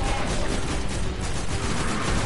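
Rapid, continuous gunfire from a newly picked-up gun in a video game, a dense steady stream of shots, loud and close, with no break across the short burst.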